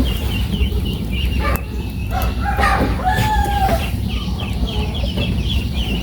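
Chickens by a pair of backyard coops, with ducks also kept, clucking and calling steadily over a loud, rumbling outdoor background, one drawn-out crow-like call in the middle, the birds near.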